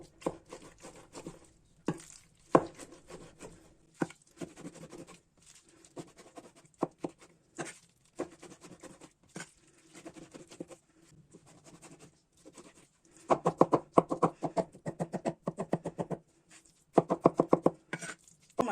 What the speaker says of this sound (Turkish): domates, biber, patlıcanlarımızı güzelce zırhtan geçirdim.